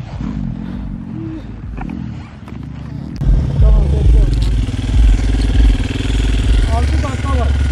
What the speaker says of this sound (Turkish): biraz motor sesi duymaya başladık